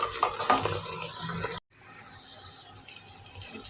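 Chopped onion frying in a pan while ginger paste goes in for jeera rice: a steady, close hiss of sizzling oil with faint stirring scrapes, broken by a brief moment of silence partway through.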